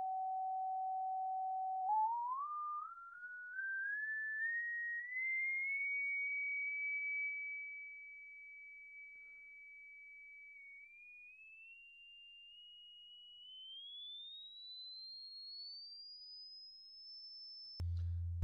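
A test tone plays through a speaker cabinet during maintenance, a faint pure tone stepping and gliding steadily upward in pitch over many seconds, ending with a short low thump.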